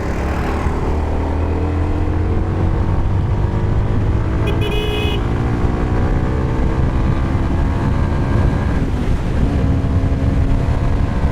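A CF Moto 300NK motorcycle pulls hard in fourth gear, its engine note climbing in a long, steady rise, then dipping and climbing again, loud and close with wind rush over the microphone.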